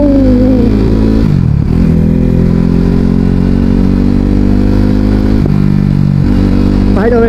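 A KTM RC 390 motorcycle engine drones loud and close under a rider shifting gears, with pitch dips and recoveries around the gear changes and a rising rev at the end.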